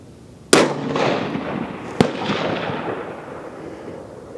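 A rifle shot cracks loudly and the bullet hits a steel target plate, the ringing impact arriving about a second and a half later and fading into a long, echoing outdoor decay.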